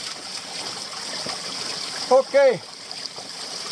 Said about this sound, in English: so here we've got a water source